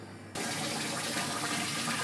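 Cold water poured over basmati rice while cooking a large biryani, a quiet hum giving way to a steady close rushing pour that runs to the end.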